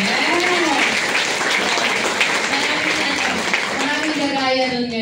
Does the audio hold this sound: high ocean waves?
no